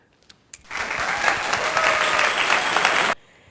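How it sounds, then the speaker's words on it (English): A short burst of applause from a small group, starting abruptly, holding steady and dense for about two and a half seconds, then cutting off cleanly, with no voices over it. "Please clap for me."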